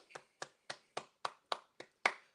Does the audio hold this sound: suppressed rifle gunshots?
no